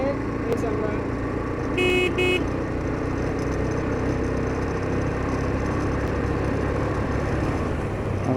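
A car overtakes another vehicle on a road in Gazipur, its engine and road noise a steady rumble with a brief horn toot, no talking.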